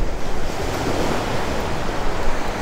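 Waves break on a Florida beach shore in a continuous roaring wash of surf, loud and close, with wind buffeting the microphone.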